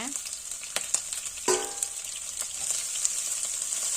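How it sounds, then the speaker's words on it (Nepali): Garlic and chopped chillies sizzle steadily in hot oil for restaurant-style veg fried rice, a continuous close frying hiss with a few sharp clicks and a brief burst of louder crackle, no talk. "अब लसुन एकैछिन फ्राई गर्नुपर्छ।"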